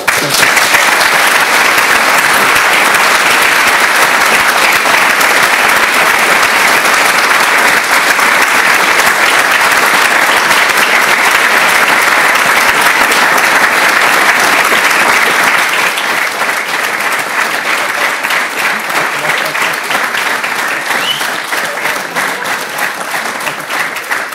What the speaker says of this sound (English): please join us in giving a huge round of applause to Mr. President Andrej Kiska